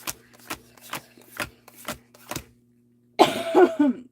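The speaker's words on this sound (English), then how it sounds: "Didn't mean to cough right in your guys' ear." A single loud close cough erupts near the microphone after a stretch of quiet, spaced speech-like ticks, harsh and breathy with a short rasping tail.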